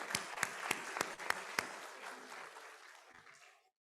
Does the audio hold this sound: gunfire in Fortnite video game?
no